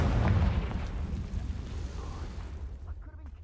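The Confringo fire spell in Hogwarts Legacy detonates in a deep, rumbling explosion that roars loudly at first, then rolls off and decays over a few seconds.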